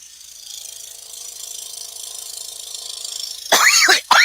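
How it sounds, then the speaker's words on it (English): A person on a live stream coughs twice near the microphone: two sharp, close bursts at the end, after a stretch of faint hum and ticking. "Sorry for coughing in y'all's ears."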